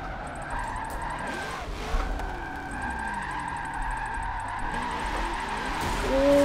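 Camaros tandem drifting in the racing game Forza 7, with sustained engine drone and thin tire squeal, steady and moderately loud, swelling slightly toward the end.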